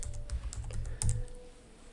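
Brief burst of fingers typing on a computer keyboard, close and fairly soft, with quick irregular key taps over a low hum.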